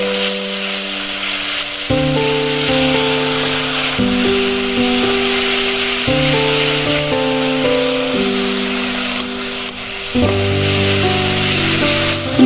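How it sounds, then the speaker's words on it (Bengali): Onions fry in a pan for chana masala, giving a dense, steady sizzle close up, with a continuous hiss and a few soft stirring scrapes. No one speaks. "পেঁয়াজগুলো এরকম ভাজা ভাজা যখন হয়ে যাবে"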